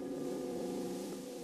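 Soft sustained chords on a Spitfire Audio felt piano, muted and mellow with tape-style coloring, held as a quiet steady wash with no distinct attacks.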